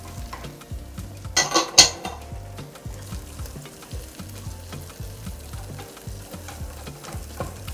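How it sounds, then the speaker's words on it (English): Cooked kidney and carrots being sautéed in a pan for Nigerian fried rice: a continuous close sizzle with rhythmic scraping and clinking of a spoon against the pan, and a brief louder burst of sizzle early on. "I'll just saute them in now for like 2 or 3 minutes."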